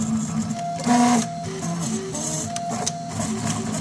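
A RepRap Prusa i2 3D printer laying down a print layer, its stepper motors whining in short tonal bursts that shift pitch as the head moves, with steady mechanical whirring throughout, close and moderately loud.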